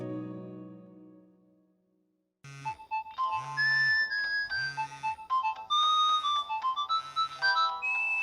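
A phone ringtone playing a bright electronic melody in repeating phrases, loud and near, after a fading musical tone and a second of silence.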